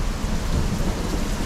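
A heavy downpour with thunder, caught while sheltering in a doorway at a hillside fortress in Nakhchivan. Dense, steady roaring rain fills the whole stretch, with a deep thunder rumble underneath and no voices.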